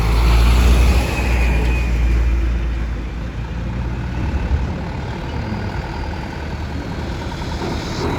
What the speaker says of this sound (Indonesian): Truk keluar pada keluar nih.